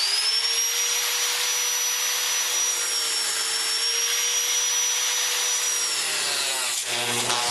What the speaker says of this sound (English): You want to be careful not to catch your fingers in the cutoff wheel.